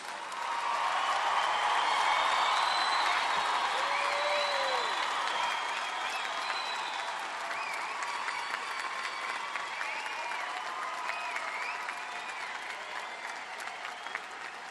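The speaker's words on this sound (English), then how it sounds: "A round of applause for these new graduates." Sustained applause from a large commencement audience for new graduates at a summer university ceremony, loud and dense at first and then easing slightly while staying steady, with faint voices and cheering scattered through it.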